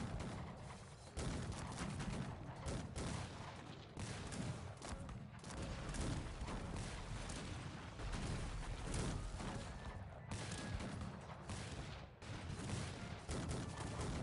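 Cannon and gunfire in the video game Cossacks 3, a dense continuous roar of battle with repeated booming volleys and crackling shots, loud and unbroken throughout.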